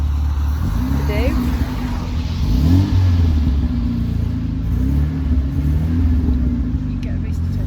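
A Renault Megane 225 engine rumbles and revs up and down close by, with a steady loud drone that rises and falls several times while people talk over it.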